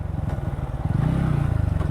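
A motorcycle climbs a smooth paved uphill road in West Rukum, Nepal, its engine a steady, close low drone that swells slightly partway through.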